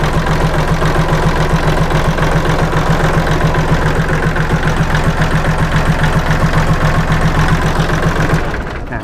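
A used Kubota L3608 DT tractor diesel engine idles with a loud, steady, rapid knocking chug that holds even for about eight seconds, then cuts off near the end, with no talking.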